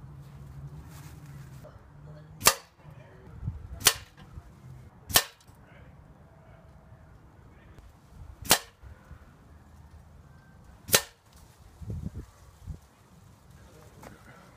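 A Benjamin Marauder .22 air rifle fires pellets in five sharp, separate cracks a few seconds apart, each loud and close, over low background murmur.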